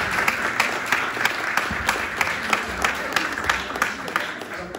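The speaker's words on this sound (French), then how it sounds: "Vous pouvez applaudir Olivier." An audience at a talk on exoplanets and a Mars landing applauds a speaker, a full, continuous round of clapping with a few sharper individual claps popping out over the crowd.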